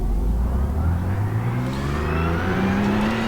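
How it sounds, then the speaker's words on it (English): A 2017 Porsche 991 GT3 Cup race car lapping the Nürburgring in a motion racing simulator, its engine revving steadily through rising gears, loud and continuous with no talk. "the first car we're going to test out today is the 2017 991 GT3 Cup car around the Nürburgring"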